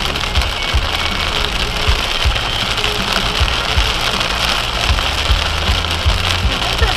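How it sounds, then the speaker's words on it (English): Heavy rain drums on a 2014 leveled Toyota 4Runner driving through flash-flooded roads, a dense, steady roar of drops and spray with the engine rumbling low underneath and occasional thumps, no voices. "Oh, it was rain."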